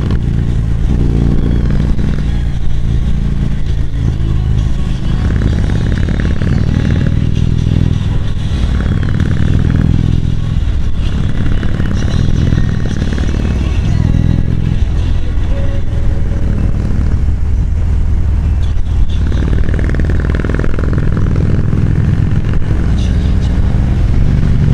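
A Harley-Davidson Road King motorcycle rides along a road with a loud, steady engine drone, rising and falling with throttle and mixed with road rumble and faint clatter throughout.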